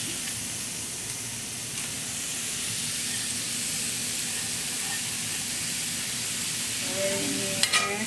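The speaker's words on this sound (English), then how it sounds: "So now I can add my wheat meat" Vegan wheat meat with vegetables and mushrooms sizzles steadily in a hot pan, a constant faint frying hiss with a few light stirring scrapes near the end.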